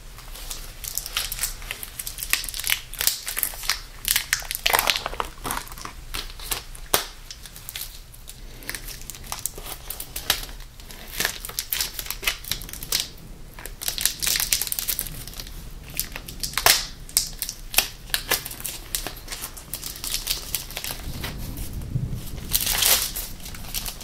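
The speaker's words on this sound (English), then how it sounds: "I'll go ahead and unwrap this." A package is unwrapped up close: a long stretch of crinkling and crackling wrapping with sharp rustling bursts at an uneven pace, and no speech.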